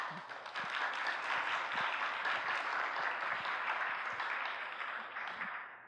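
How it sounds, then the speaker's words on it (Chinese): An audience claps warmly to welcome a director onto a lecture stage, steady sustained applause that swells and then slowly tapers at the end. "那我们现在就用最热烈的掌声来欢迎吴泰任吴导演"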